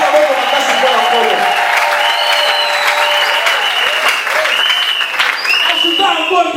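A church congregation claps strongly and continuously, a dense loud applause with cheering voices and people talking over it throughout.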